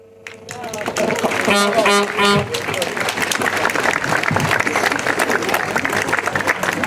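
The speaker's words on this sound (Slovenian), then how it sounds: "en lep aplavz za moščanske osnovnošolce, tudi Melanija" Audience applause for primary school children at a carnival event in Morsko, a dense wash of clapping that swells after a brief musical ending and stays loud and steady, with voices mixed in.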